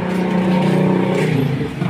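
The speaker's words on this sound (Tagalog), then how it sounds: "Compressor." A large 20 HP three-phase Ingersoll-Rand air compressor runs close by with a loud, steady low motor drone and layered mechanical hum, holding constant with a slight dip near the end.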